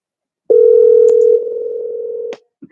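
A steady telephone dial tone hums loud and alone for about two seconds while a call to Philip is placed, then cuts off, followed by a brief faint click.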